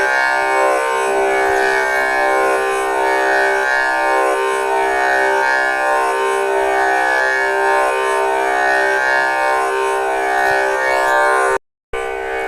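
A harmonium holds its first white key, C, as one steady, loud, reedy chord rich in overtones for about eleven seconds, then stops abruptly.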